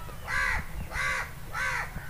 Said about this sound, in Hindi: ये सारे कौवे बैठे हैं ऊपर,